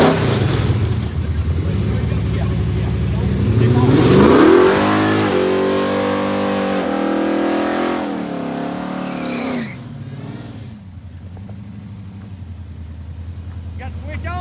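A work truck at a Shadyside test and tune revs hard, the engine climbing loudly through rising pitch with tire skid noise, then easing off, with people talking and shouting nearby throughout.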